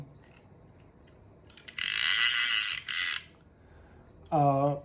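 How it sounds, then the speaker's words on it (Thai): Two bursts of rapid mechanical clicking from a vintage Olympic 100 High Speed fishing reel's ratchet, a buzz lasting about a second each, followed by a short tonal whine; otherwise quiet. "แล้วก็มีคลิกเสียงเนี่ยลองเล่นดูนะครับ"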